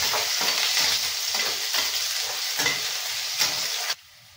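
Chopped onion, garlic and ginger with cumin seeds sizzle and crackle loudly in hot oil while being stirred, a steady close frying hiss that cuts off abruptly near the end.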